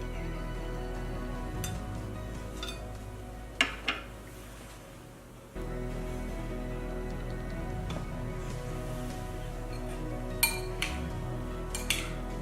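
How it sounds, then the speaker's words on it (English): A knife cutting a wedge of orange ricotta cake on a plate, quiet and close, with a few light clinks of metal on dish over a low steady background hum. "we're just going to cut a nice wedge"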